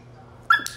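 A dog gives a single short bark answering a command, brief and moderately close in an otherwise quiet room.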